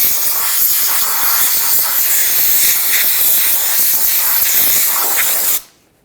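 Compressed air blasts steadily against a 2009-2011 Ford F-150 rear wheel hub, drying it off after a rinse. The hiss is loud and close, holds for about five and a half seconds, then cuts off abruptly.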